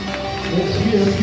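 Applause from an audience at a Cebu Safari bird show rises as a broad, dense wash of clapping under an amplified announcer's voice, swelling over about a second.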